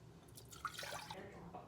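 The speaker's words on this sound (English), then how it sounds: "I'm going to put 2 cups of water into my pot" Two cups of water poured into a cooking pot on a stove for oatmeal, a brief, quiet splashing trickle with a few drips that lasts about a second over low room noise.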